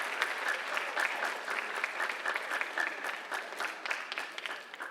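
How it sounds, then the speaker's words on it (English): Audience at a school writers expo claps steadily for nearly five seconds, a dense, even applause with scattered sharp individual claps throughout. "let's give them one big round of applause before we bring out our poets."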